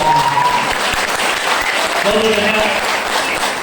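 A large audience at a motivational speech breaks into sustained loud applause that fills the room evenly, with a voice faintly audible beneath it.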